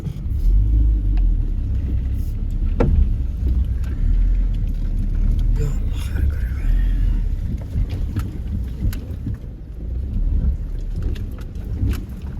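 A car creeps slowly along a mountain road past a landslide between Naran and Barawai, a low steady engine and tyre rumble with occasional knocks and clatters from the rough surface, close by and continuous.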